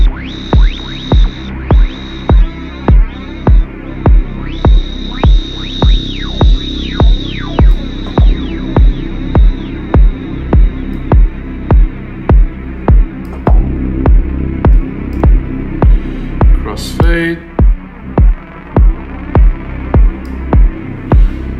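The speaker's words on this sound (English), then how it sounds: "this ring modulation or flanger thing," A techno synth runs through a ring modulation or flanger effect, producing loud, rapid rhythmic throbbing pulses with a sweeping, metallic whooshing tone that repeats steadily throughout.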